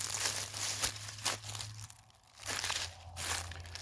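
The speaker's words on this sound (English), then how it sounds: "to where the noises you hear are like the crunching of leaves" Footsteps crunching through dry leaves on a walk in the quiet outdoors, a steady series of close, crisp crinkling crunches with brief softer gaps between steps.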